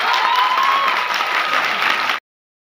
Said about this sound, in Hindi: इस बार अपने लिए तालियां हो जाए।